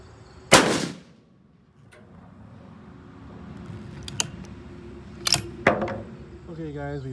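A single loud 300 Remington Ultra Mag rifle shot fired at a Lexan target outdoors, a sharp close crack early on, followed by quieter distant impacts or clicks over low background noise.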